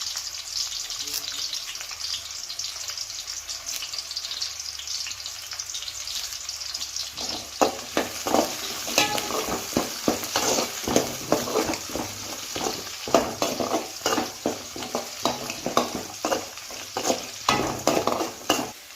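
Curry leaves and onions sizzle in a pan for a fish curry, a constant frying hiss joined midway by a rapid run of spoon scrapes and stirring knocks, close and without speech.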